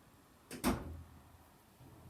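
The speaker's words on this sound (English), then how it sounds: "could you shut the door, please, Lucas?" A pottery studio door is pushed shut, giving a short double thud with a brief rattle that fades into a quiet room.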